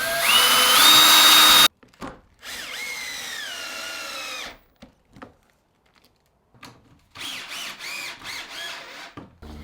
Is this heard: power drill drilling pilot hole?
yes